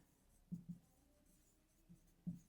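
Numbers written by hand with a pen, soft short scratchy strokes in small clusters, quiet and close, with no voice over them.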